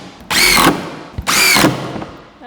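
A power drill drives screws into a wooden bat box, two long whirring bursts with a short pause between, loud and close with no talk.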